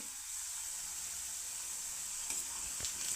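Curry leaves, still on their thin stalks, sautéing in hot oil for a shengdana aamti, a steady bright sizzle and hiss throughout, with a couple of light stir clicks near the end.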